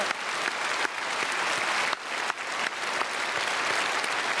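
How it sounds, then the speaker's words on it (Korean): A church congregation at Sunday worship applauds after the choir's hymn, a broad, even roar of many hands clapping from across a large hall, steady and moderately distant for over four seconds. "박수하겠습니다."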